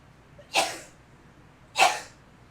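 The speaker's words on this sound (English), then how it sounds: "I'm about to sneeze, y'all." Two sharp sneezes about a second apart, close and fairly loud, each a quick explosive burst with no talking around them.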